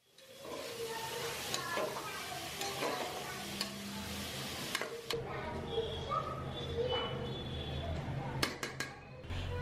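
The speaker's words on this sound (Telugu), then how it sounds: "మటన్ కీమాను యాడ్ చేసి బాగా మిక్స్ చేద్దాం." Minced mutton keema frying with onions and turmeric in a pan, a steady hiss punctuated by repeated scraping stirs and a few clinks, close-up with no talking.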